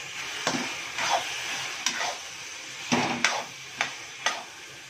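Liver and onion masala cooks in a pan, with a soft sizzle under several sharp scrapes and taps of a spoon stirring at irregular intervals. Close and fairly quiet, with no talk.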